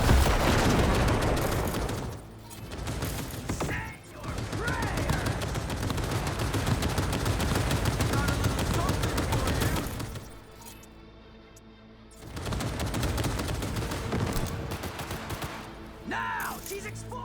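Panzer turret gunfire in Cyberpunk 2077 Phantom Liberty, a loud, dense stream of rapid heavy shots and booms lasting many seconds, briefly pausing midway before resuming, with faint voices in the background.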